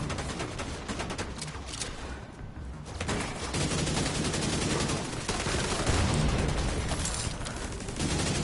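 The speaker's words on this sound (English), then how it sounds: "I know I'm shooting him with grenades" Weapons fire in The Division 2 rolls on almost without pause, a dense, loud barrage of shots and grenade blasts that blur together into a continuous rumble for several seconds.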